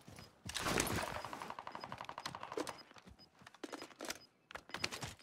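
Rapid gunfire bursts from the Warzone Caldera video game, with dense automatic fire up front, then scattered sharp single shots and short volleys toward the end, loud and close.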